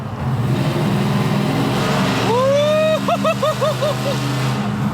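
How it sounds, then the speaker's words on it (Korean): Dodge Dakota pickup's American V8 exhaust heard from inside the cab in a tunnel, a steady low rumble that swells as the throttle opens, with rising whine and a few pulsing rev surges toward the end. "미국 아메리칸 V8은 이 저속으로 달릴 때 이 배기음이 너무 좋은 것 같아요."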